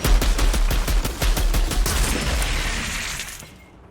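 Rapid bursts of automatic gunfire in the Outriders video game, dense loud shots in quick succession that die away into a fading tail.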